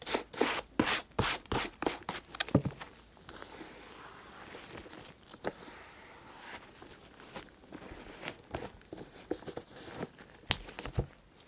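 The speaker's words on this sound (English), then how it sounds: "here I use a small brush to get rid of any soap residue that might bother me later" A small brush scrubs soap residue off worn-out shoes, with brisk rhythmic rubbing strokes close up, loud quick bursts at first, then softer continuous scrubbing with occasional sharper strokes.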